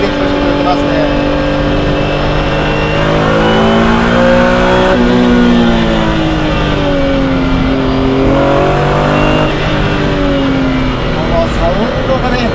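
A Ferrari Dino 246 GT engine revs hard, its pitch climbing and falling repeatedly as it accelerates and eases off, heard loudly from inside the car.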